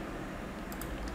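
Quick computer keyboard clicks for copy and paste, a few light taps near the end over steady background hiss.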